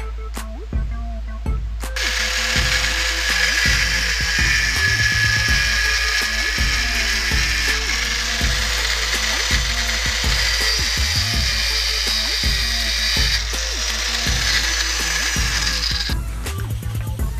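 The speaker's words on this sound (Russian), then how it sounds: "Теперь мне нужно будет крайние шпильки спилить вот по этой разметке." A high-pitched power tool grinds steadily through threaded metal rod for over ten seconds, loud and close, starting and stopping abruptly.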